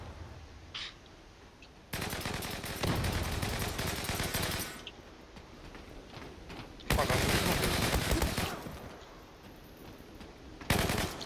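Automatic gunfire in the online shooter game Zula comes in two long loud bursts of rapid shots over quieter game ambience, with a sharp shot at the very end.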